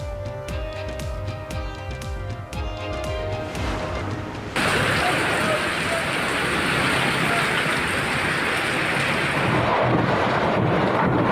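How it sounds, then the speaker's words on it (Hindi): Heavy rain falls across Karachi as a loud, steady, dense hiss of drops and wind-blown noise that starts abruptly after a short musical jingle and continues unbroken to the end. "शहर कायद के मुख्तलिफ इलाकों में कहीं हल्की कहीं तेज बारिश"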